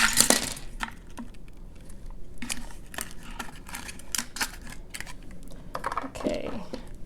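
Raisins are poured into a bowl of homemade trail mix, making a quick series of small clicking, tapping impacts close by that rattle against the container in irregular bursts.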